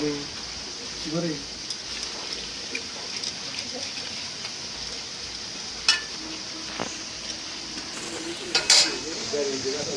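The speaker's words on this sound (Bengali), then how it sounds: "এখন দিয়ে দিই ভেন্ডিগুলি, দিয়ে দিই।" Okra (bhindi) frying in a home-kitchen pan, a steady soft sizzle with scattered clinks of a spoon against the pan and a brief voice now and then.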